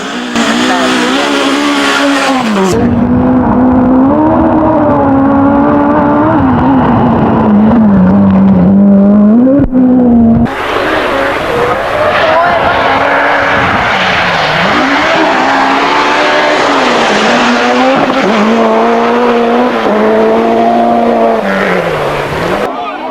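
A Toyota Celica Group B rally car roars along with loud sustained engine drone and shifting revs, tires squealing briefly as it slides, while a voice talks over much of it.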